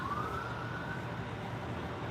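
A police car siren wails faintly and at a distance on 7th Street in Washington DC, a rising tone over a steady wash of street traffic.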